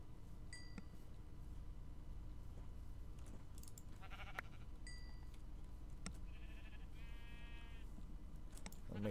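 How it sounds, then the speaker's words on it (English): Sheep in Minecraft give a few short, quiet bleats spread across a steady low background hum, each one brief and well apart, with no voices. "That's a different sheep."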